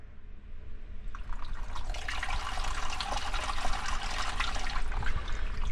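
Seawater rushes through a boat engine's saltwater strainer in Indonesia, starting faintly and swelling within a second into a strong, steady gush that keeps running close by with no talk.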